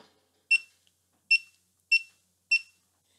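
Four sharp electronic beeps from a GoPro HD Hero2 camera at uneven intervals, close and clear against near silence.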